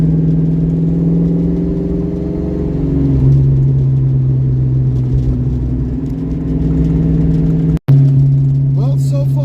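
Ford Mustang V8 with a Duraspark 2 distributor and carburetor, engine rumbling steadily then shifting pitch as it revs, loud and close from inside the car, with a brief sharp dropout near the end.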